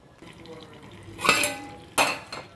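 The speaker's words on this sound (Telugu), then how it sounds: "కాసేపు మూత పెట్టి వదిలేద్దాం." A metal lid is set down on a cooking pot of ragi and Bombay rava upma, making two sharp clanks, the second a little louder, in a quiet kitchen.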